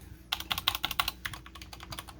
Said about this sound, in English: this is how the spacebar sounds, numbers,